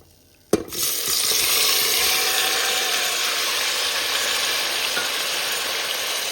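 Tomatoes drop into hot oil in a pan with a sudden loud hiss, settling into a steady close sizzle that continues alone for several seconds.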